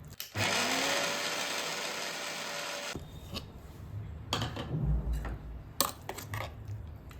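A mixer grinder whirs loudly and steadily as it blends chutney with water for a couple of seconds, then stops, leaving scattered clinks and knocks of the jar and lid.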